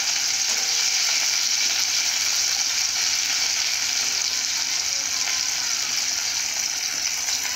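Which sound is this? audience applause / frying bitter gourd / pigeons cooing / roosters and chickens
frying bitter gourd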